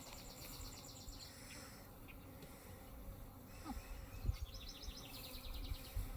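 Honey bees buzz around a hive, a soft steady insect drone with faint chirping and small knocks in the background, quiet throughout.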